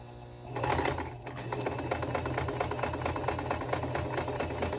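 A sewing machine with a fault runs with a rapid, steady mechanical clatter and an uneven rattling knock over the stitching rhythm, close and fairly quiet.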